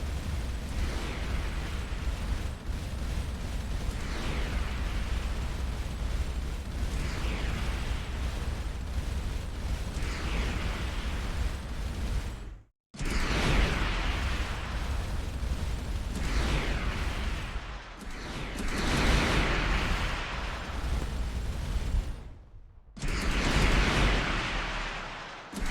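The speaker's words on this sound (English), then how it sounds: "I'll just sit back and trade missile shots with you." Missile shots exploding in the space combat video game Starcom Unknown Space, a dense, continuous roar of loud booms and bursts that fills the whole stretch, broken by two brief silent gaps.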